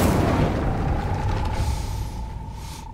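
In Hogwarts Legacy, the Incendio fire spell bursts out with a loud whooshing roar that slowly subsides into a sustained fiery rush lasting a few seconds.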